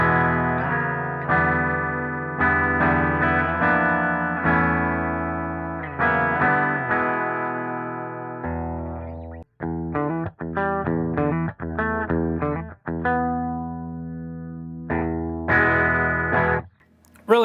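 A 1997 Ibanez S-Classic SC420 electric guitar plays through its bridge humbucker into the clean channel of a 5150 amp. Ringing chords and picked notes are followed by a quicker, choppier passage, with no talk.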